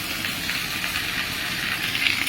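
Shrimp go into a pan of frying potatoes and onions, making a dense, even sizzle that is close and loud for a brief moment.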